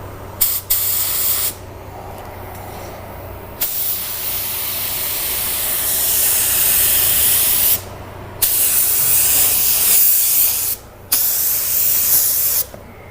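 An LVLP automotive paint spray gun lays down a coat on a car panel, delivering repeated bursts of hissing spray separated by brief pauses, with one long continuous pass in the middle, close and loud.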